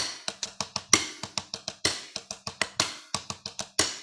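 Crisp drumstick strokes on a drum playing a rudiment sticking pattern with a 7-stroke, in quick, grouped bursts with short gaps between patterns, close and clear, no voices.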